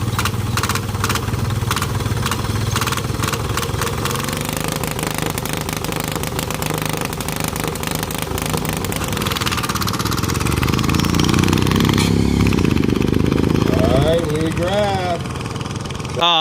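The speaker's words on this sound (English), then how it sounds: "The problem is the motor spins up really, really, really slowly with that pulley on there." A drag-racing lawn tractor engine with a pulley drive chugs with a rapid, pulsing beat, then slowly spins up into a rising whine toward the end, loud and close. A voice talks over it.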